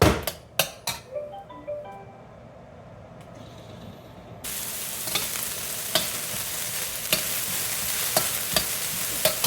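Onion dropped into a hot oiled pan while making Italian sausage and tortellini soup, a few sharp knocks and stirs, then a steady loud sizzle breaking out and holding, with scattered utensil scrapes.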